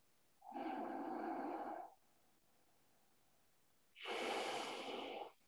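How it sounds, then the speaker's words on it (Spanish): Two slow, deep breaths during a guided relaxation exercise, each a long, close airy rush lasting over a second, separated by a quiet pause. "A través de esta respiración profunda, observas todo ello."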